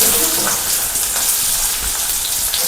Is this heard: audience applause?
no